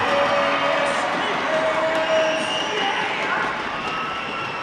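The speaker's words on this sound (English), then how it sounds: "Crowd back into this game." Crowd cheering in a basketball arena at an NBL Canada game between the KW Titans and London Lightning, a loud, steady roar of many voices filling the space and tailing off slightly toward the end.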